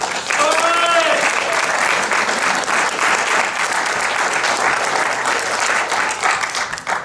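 Sustained audience applause at a fall mathematics graduation ceremony, a full room clapping steadily and loudly for several seconds, with a brief voice near the start.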